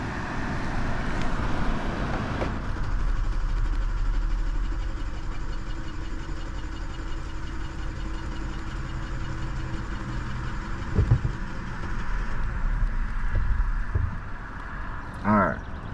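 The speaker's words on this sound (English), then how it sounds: "So let's go ahead and try to get this engine started." A low engine rumble churns steadily as a 2021 Kia Forte GT-Line with 40,000 miles cranks and runs roughly, failing to start and never settling into a smooth idle, with a brief clunk near the end.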